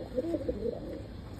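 Soft, low pigeon coos come in a short burst of a few notes, close by and fairly quiet, at a pigeon market in Old Dhaka.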